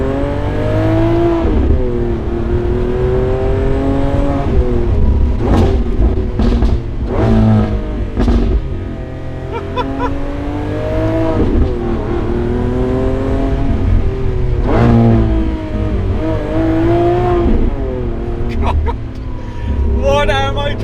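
A Lamborghini Aventador SVJ Roadster engine roars loud and close as it accelerates, its pitch climbing in repeated sweeping rises while it shifts into second gear, with the engine sound filling the whole stretch.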